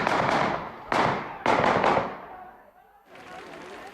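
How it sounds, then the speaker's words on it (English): A volley of police gunfire, several sharp cracks in quick succession with echoing decay, followed by a fainter distant burst. "police brought him down with a volley of bullets"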